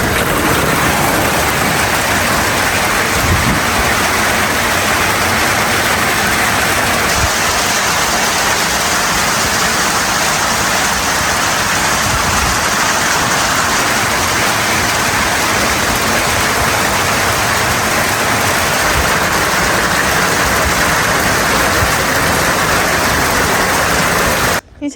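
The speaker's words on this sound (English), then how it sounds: "Okay, rains have started." Steady rain falls outdoors on a farm, a dense continuous hiss that stays loud and even throughout with no voices.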